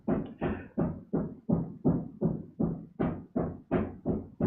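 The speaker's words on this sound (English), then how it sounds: "we do have construction happening here at Studio C, so I apologize for the noise that you may be hearing in the background" Construction work at a studio produces a steady run of heavy rhythmic thuds, about three per second, each a short booming knock heard close and alone.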